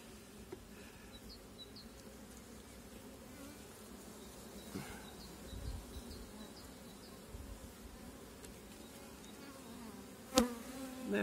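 Honey bees swarm and buzz at an opened beehive during a hive split after the acacia bloom, a steady, fairly quiet drone with a few brief louder moments near the end.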